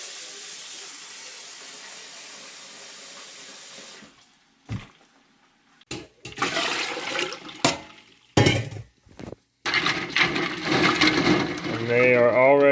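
Kitchen tap water runs in a steady hiss for about four seconds while an ice water bath is prepared for cooked eggs, then stops, followed by intermittent clatter, splashing and rushing bursts.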